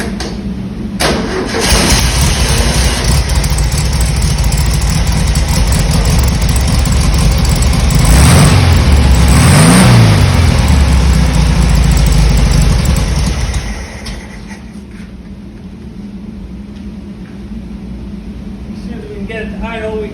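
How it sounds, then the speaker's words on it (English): A carbureted VW dune buggy engine cranks, catches and revs loudly, rumbling steadily for about thirteen seconds before dropping to a quieter, even idle. "see if it'll crank over and start"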